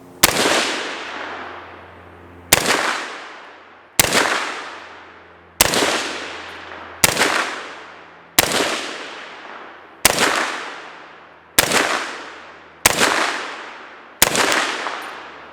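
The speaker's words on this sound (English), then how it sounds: "We're just going to shoot right where it's touching that big tree, and see if we can't finish it off" Ten sharp, loud rifle shots from a PSA PA-10 in .308 Winchester are fired at a rotten tree outdoors, spaced about one and a half seconds apart, each with a quickly fading echo.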